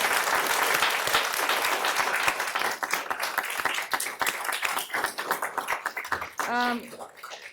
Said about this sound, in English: can we just give all of our amazing applicants a round of applause?